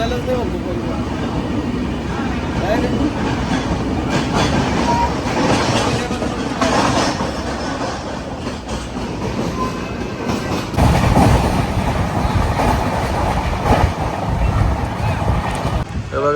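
A train rumbles steadily along the tracks with continuous low clatter and wind noise, loud and close throughout.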